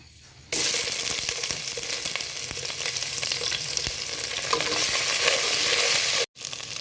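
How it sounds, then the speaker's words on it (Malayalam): Ginger garlic paste hits hot ghee with spices in a pan for a loud, steady broadband sizzle that starts abruptly after a brief quiet moment, continues close and dense with faint stirring scrapes, and cuts out for an instant near the end before resuming. "ഇനി നമുക്ക് ജിഞ്ചർ ഗാർലിക് പേസ്റ്റ് ഇടാം"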